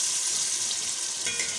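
Chopped onion, ginger, tomato and green chillies fry in oil, a brief, steady, close hiss and crackle with no voices.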